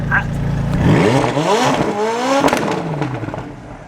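Tuned McLaren 570S engine revving hard, its pitch sweeping up and down through a loud burst, with sharp bangs and pops crackling from the exhaust, close and prominent over a faint voice.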